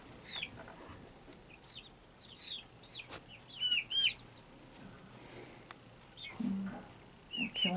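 Baby chicks in their new home, with repeated high cheeps and soft clucks scattered over a faint background, some calls close and fairly loud.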